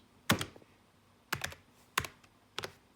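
A computer keyboard is typed on at close range, four short bursts of crisp clicking keystrokes spaced irregularly over a few seconds in a quiet room.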